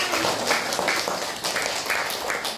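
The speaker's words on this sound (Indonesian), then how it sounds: "Boleh tepuk tangan." Children in a classroom coding lesson clap in a rhythmic, patterned burst, fairly close and steady throughout with no talk over it.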